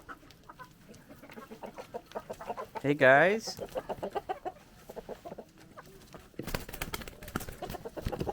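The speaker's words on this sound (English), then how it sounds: "And these are chickens." Chickens cluck and squawk nearby in a winter garden, with one loud drawn-out call in the middle; someone briefly speaks over the birds.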